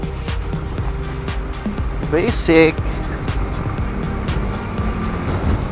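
A Honda CB150X motorcycle rides over a rough road, its engine and the bumpy rumble steady under wind noise. Riders talk and laugh over it.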